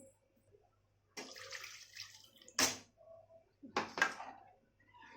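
Water poured into a pot of Marathi golyachi aamti, a traditional curry with gram-flour dumplings, comes in a few short splashing bursts separated by quieter gaps, close and moderately loud.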